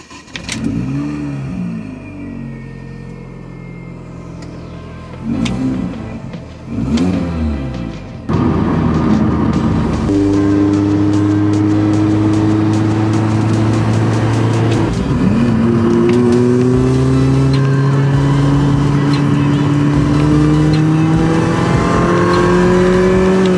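A Mini Cooper R53 with a methanol injection install idles and blips its engine in short revs, then pulls away under sustained loud acceleration, the pitch climbing through several gear changes.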